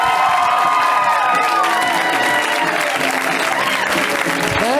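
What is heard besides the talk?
audience applause and cheering for a comedian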